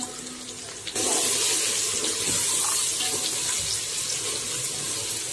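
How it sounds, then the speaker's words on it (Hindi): Water being poured from a tap into a pot of fried meat for yakhni, starting abruptly after a second as a loud, steady hissing gush that continues to the end. "अब इसको मैं इसके अंदर मैं पानी ऐड कर दूंगी जिसमें ये गोश्त डाल जाए"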